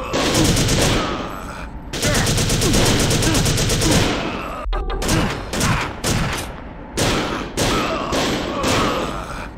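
Guards open fire in the video game Second Sight, bursts of rapid automatic gunfire followed by scattered individual shots and thuds, loud and close.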